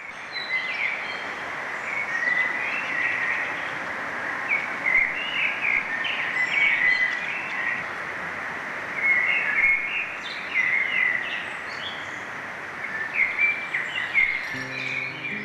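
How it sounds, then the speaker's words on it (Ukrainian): Continuous birdsong fills a quiet park on the edge of Kyiv, with repeated chirps and trills over a steady low background hum, moderately distant and without speech. "затишний парк з численними містками, алеями, два неоренесансні будинки і безперервні пташині наспіви"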